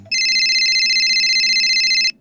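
A landline telephone on the hook rings loudly and continuously in a single long electronic trill, close and alone, lasting about two seconds before cutting off.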